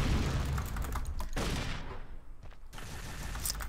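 Rapid gunfire from the pre-alpha Unreal Tournament video game, a dense sustained burst of shots with dull booms, briefly thinning mid-clip before the firing resumes, loud and close with no voices.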